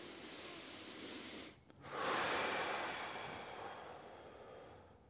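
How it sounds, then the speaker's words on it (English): A deep, slow inhale drawn through the nose during a hip-opening stretch, a close, airy hiss that swells after a brief pause and then tapers off gradually, with no talking. "we're going to take a big breath in."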